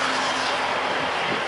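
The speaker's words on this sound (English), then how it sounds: "sorry about the traffic noise" Steady broadband traffic roar with a car passing close by, continuous and fairly loud, with no voices.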